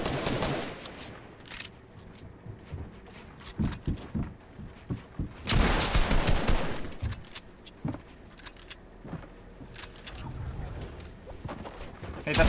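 Bursts of rapid Fortnite gunfire crackle in short volleys with a dense loud burst midway, surrounded by scattered clicks and pops at moderate volume.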